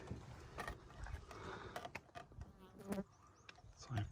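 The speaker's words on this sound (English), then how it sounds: "There are mosquitoes and black flies all around me." Mosquitoes and black flies buzz faintly around a hiker on a mountain slide, thin whining drones passing close by amid scattered soft clicks and rustles.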